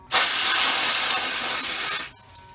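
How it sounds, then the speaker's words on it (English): Compressed air at 30 psi blasts into a car's damaged trunk keyhole, a loud, close, steady hiss that starts abruptly and stops about two seconds later. "we're just going to spray it with the 30 psi"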